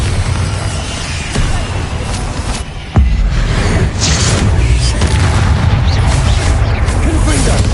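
Bombarda blast spell in Hogwarts Legacy: loud, dense booming explosions rolling one into another, with a sharp burst partway through and a continuous heavy rumble underneath.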